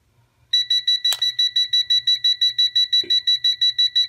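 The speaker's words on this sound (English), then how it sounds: "And there you can hear the audible alarm." After a moment of quiet, a TopTes gas leak detector sniffer reacts to unlit gas from a flame source with a loud, rapid train of sharp electronic beeps, evenly pulsed, with a couple of small clicks or knocks in between.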